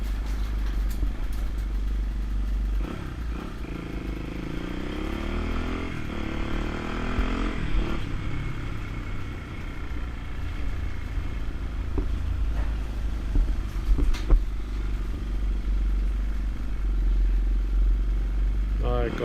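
A restored, roughly 40-year-old Honda XR200RC motorcycle rides along a road behind a taxi, its engine a steady, low drone with some clatter, while someone talks over it.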